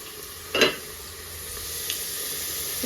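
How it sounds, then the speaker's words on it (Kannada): Onions fry in a pan on a home stove, giving a faint, steady sizzle with a few brief stirring scrapes and clinks on top. "ಈ ಕಡೆ ಆನಿಯನ್ ಎಲ್ಲ ಫ್ರೈ ಆಗಿದೆ."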